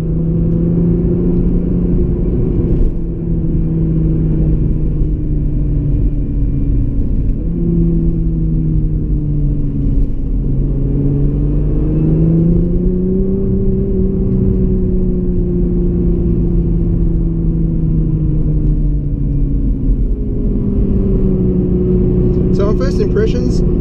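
A 2017 Nissan GT-R pulls hard through the gears on a coastal road, its engine note climbing and then dropping at each shift, a loud, continuous roar heard from inside the cabin.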